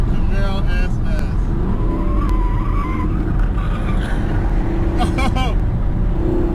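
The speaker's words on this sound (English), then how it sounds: "I'm racing with a beast. The ZL11LE and the Camaro SS" A Chevrolet Camaro ZL1 1LE and a Camaro SS racing on a track, engines droning with tire squeal and passing cars, while people talk over the steady roar.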